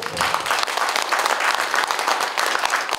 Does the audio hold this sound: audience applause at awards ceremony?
yes